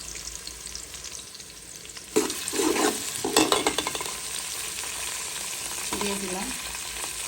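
Whole cardamom, cloves, cinnamon and bay leaf drop into hot oil for a chicken and new potato curry, setting off a sudden sharp sizzle with spoon-stirring scrapes. A voice speaks briefly over the frying.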